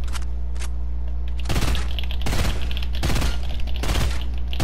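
Gunfire bursts in a creative-mode battle video game, rounds striking metal walls; three or four loud, dense broadband volleys separated by short pauses, close and alone with no talk.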